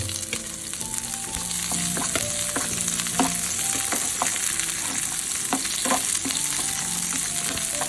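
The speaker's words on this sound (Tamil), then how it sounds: "7-8 வெங்காயத்தை, அந்த அரிஞ்சு வச்ச வெங்காயத்தை போட்டு வதக்குங்க" Seven or eight chopped small onions (shallots) sizzle in a hot oiled pan for a crispy bitter gourd fry. A loud, continuous frying hiss runs throughout, with scattered stirring clinks and scrapes and no voices.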